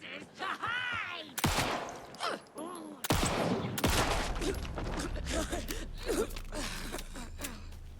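Gunfire erupts in the horror action game Alan Wake in bursts of loud, close shots with harsh impacts, mixed with gasps and strained breathing.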